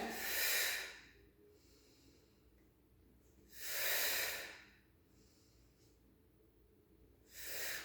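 Slow, deep breaths in and out during seated arm exercises, three long airy exhalations spaced a few seconds apart with quiet pauses between, close and fairly soft.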